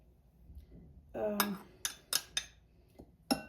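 A spoon scrapes and clinks against a bowl while almond flour batter is mixed, giving a short scraping stretch and then several sharp, bright taps close to the listener.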